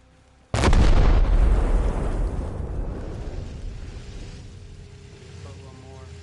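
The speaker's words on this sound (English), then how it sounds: "Yep, blow it. 3, 2, 1, fire in the hole." A demolition charge in Arma Reforger goes off with one sudden, massive blast, its deep boom rolling out and slowly decaying into a long rumbling tail, with faint sounds from the game afterward.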